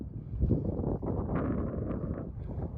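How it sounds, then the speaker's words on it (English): Breezy wind blowing through a cold mountain lake basin at Little Loomis Lake, a steady rushing buffet on the microphone for a few seconds, with no speech. "I gotta say, it's breezy right now."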